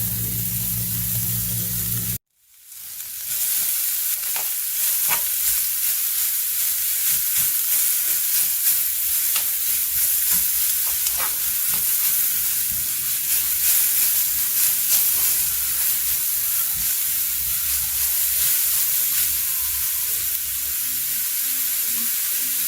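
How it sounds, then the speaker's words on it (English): Zucchini spaghetti steaming in a hot wok gives a steady, close hiss and sizzle that runs almost unbroken, with one brief dropout near the start and no talking. "put my zucchini spaghetti in there and let it steam"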